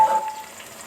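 Onion, garlic and cumin with chopped garlic frying in a pan while being stirred, a soft steady sizzle at close range for under a second with no talk.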